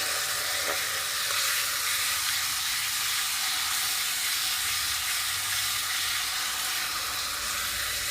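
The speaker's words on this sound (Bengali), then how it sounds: "টমাটোগুলো মশলার সাথে খুব ভালো করে কষিয়ে নেব" Chopped tomatoes frying with ground spices in a pan for a rui fish curry with potato and cauliflower: a steady, loud, close sizzle and hiss that runs unbroken throughout, with no voices.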